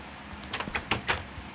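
Blocky wooden double doors in a hardcore Minecraft survival world swing open and shut, giving a quick run of four or five sharp clacks over about a second, close and clear with no talking.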